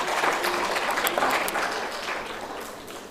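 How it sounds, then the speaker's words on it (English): Applause from the audience at a foundation day ceremony, a dense steady clatter of many hands that stays loud throughout and eases off slightly toward the end. "Please give a huge round of applause for each one of you."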